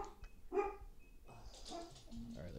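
A husky Australian shepherd mix dog barks indoors, a single sharp bark followed by softer, muffled barks and movement, faint and somewhat distant.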